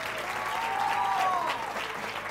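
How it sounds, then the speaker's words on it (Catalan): An audience at a televised school word-game competition applauds steadily for about two seconds, a dense even clapping with no voices over it. "Un aplaudiment per elles."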